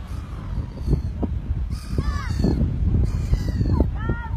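Gulls gathered on a beach, apparently squabbling over scraps of food, give several harsh, rising squawks and caws in short bursts over steady wind and surf noise, with a few calls sounding close by.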